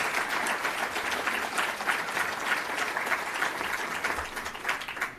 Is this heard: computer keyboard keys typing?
no